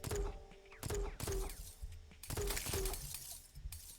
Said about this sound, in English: When it hits stuff, it looks like it shatters.